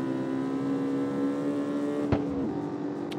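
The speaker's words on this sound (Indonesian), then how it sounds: "jadi ya sekarang kita memiliki Ford Mustang dan kalau misalkan kalian tahu ini adalah suaranya" A Ford Mustang engine in the CarX Street racing game holds a steady, loud idle-like drone with a sharp click partway through, with no talking.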